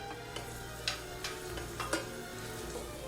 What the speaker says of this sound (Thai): เติมน้ำมันเจียวกระเทียมให้หอมเหลืองเลยนะครับ